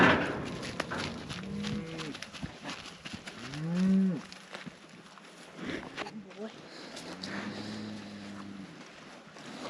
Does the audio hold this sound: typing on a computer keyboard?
no